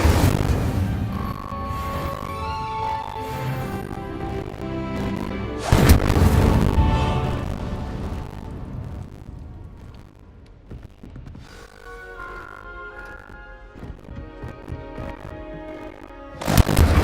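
A burst of fire from the Incendio spell in Hogwarts Legacy whooshes and booms loudly twice, first near the middle and again at the very end, over a constant bed of game music and ambient effects.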